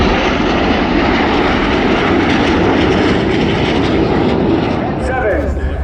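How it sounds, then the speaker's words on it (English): Red Arrows jets at the RIAT airshow roar past in formation trailing smoke, a loud, sustained broadband jet rumble that stays strong throughout, with a faint voice underneath. "Each aircraft will perform a power roll, crossing the middle before turning hard away from each other."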